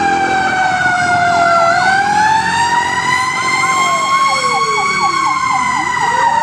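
A loud wailing fire truck siren nearby at a fire in Intramuros, with overlapping rising and falling tones sounding continuously.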